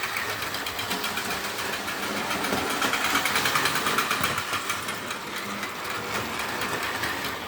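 A small electric motor in a Marx model train buzzes and whirs steadily, a high, rattling hum with a fast ticking rhythm, close and continuous with no talk.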